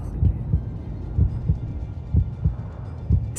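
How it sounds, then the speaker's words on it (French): Heartbeat in a Hyundai Kona car advertisement, a steady low double thump repeating about every half second to second, loud and close over a faint hum, without talk. "Chaque battement de cœur."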